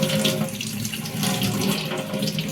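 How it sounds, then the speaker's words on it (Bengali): Tap water runs in a continuous, fairly loud stream during washing at home, a steady splashing hiss with no voices and no break. "এটাকে আমি ধুয়ে নিচ্ছি"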